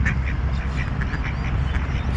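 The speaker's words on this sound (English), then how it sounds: "just some ducks there" Male and female ducks quacking in a steady series of calls over a constant low background rumble, moderately close.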